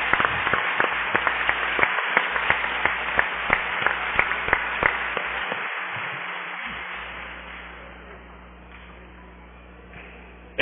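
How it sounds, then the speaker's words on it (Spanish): A congregation at a church service in Veracruz, Mexico applauds the women, sharp individual claps ringing out over a thinner crowd clapping that gradually fades away, with a low hum underneath. "Un aplauso por las mujeres."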